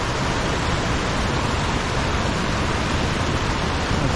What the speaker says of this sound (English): That's our waterfall down there.